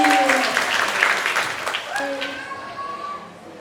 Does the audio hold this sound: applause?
yes